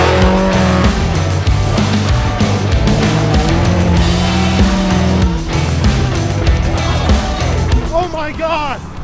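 Mazda Miata revving in first gear as it launches over a dirt jump, a loud engine roar with tire noise, close by, while people talk and shout excitedly over it.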